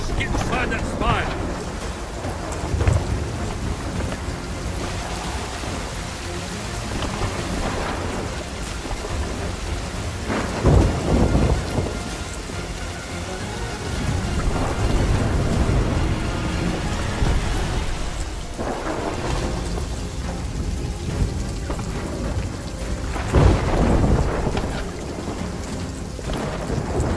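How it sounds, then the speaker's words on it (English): Stormy weather in the Sea of Thieves pirate game: steady heavy rain with repeated rumbling thunder claps swelling every several seconds, a loud, continuous wash with no voices. "Calypso's lightning cracked the spire."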